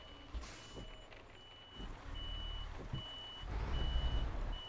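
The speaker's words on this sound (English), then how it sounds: "That explains the beeping there, JJ. I've heard rumours about that, beeping while reversing." A truck's reversing alarm beeps at a steady interval over the low rumble of its engine, which swells toward the end, in the game Euro Truck Simulator 2.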